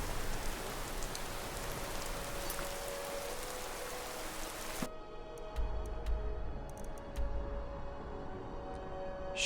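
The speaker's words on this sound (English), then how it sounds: "Oh, it's rainy." Rainfall in the video game Skyrim, a close, steady patter for the first half that abruptly thins to sparse ticks and drips over a quiet background.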